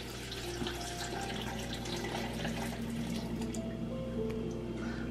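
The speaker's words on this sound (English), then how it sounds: "And then I'm just gonna add a bit of water as the base." Water pours into a blender for a red or orange pepper smoothie, a soft steady trickle and splash, fairly faint over a low background hum.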